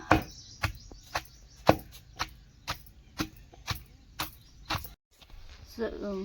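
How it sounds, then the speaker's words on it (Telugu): Raw mango pieces pounded in a stone mortar, about ten sharp, evenly spaced thuds ringing out close and loud, followed by a brief pause and a softer crunching scrape at the end. "రోట్లో దంచుతున్నాం కాబట్టి చాలా బాగుంటుంది"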